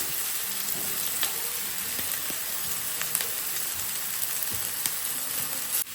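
Onion and garlic fry in hot oil with a steady, close sizzle and crackle, broken by occasional stirring scrapes and light clicks.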